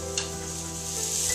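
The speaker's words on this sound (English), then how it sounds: "frying in the skillet" Seitan frying in oil in a skillet, a steady close sizzle with fine crackling and a faint underlying kitchen hum, continuous and even throughout.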